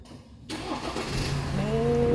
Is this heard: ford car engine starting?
yes